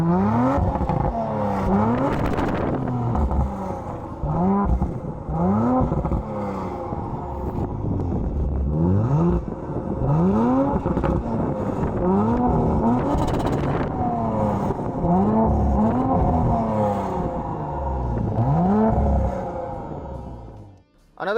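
A 2018 Audi RS5 engine pulls through repeated rising gear sweeps under way, each climb followed by a drop as it shifts, loud and steady with a constant road rumble underneath for about twenty seconds.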